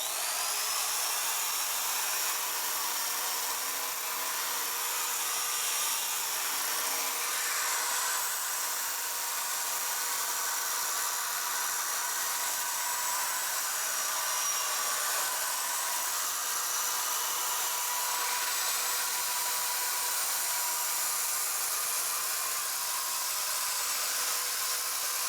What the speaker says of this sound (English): I'm going to power sand the outside.